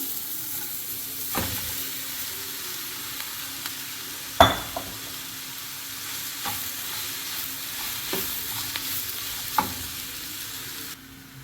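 Cutlet masala is stirred and mixed in a pan, a soft continuous sizzle broken by a few sharp scrapes and knocks of the spoon against the pan, with one louder clack midway.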